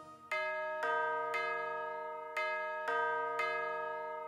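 A chiming bell in a children's nursery rhyme strikes six clear, ringing tones in an even rhythm, each note sustaining and decaying, heard alone without singing.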